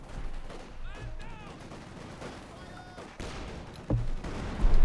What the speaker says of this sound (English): Light infantry shots here.